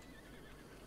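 A horse neighs and whinnies in Zelda: Breath of the Wild, a short, faint game call set against a steady low background bed.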